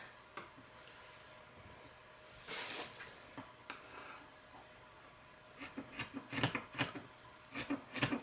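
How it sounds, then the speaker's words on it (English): Scissors cut strips for a Dollar Tree glam garland, making faint, crisp snips that come sparsely at first and then in a quick cluster toward the end, in a quiet room. "You're just going to cut some strips."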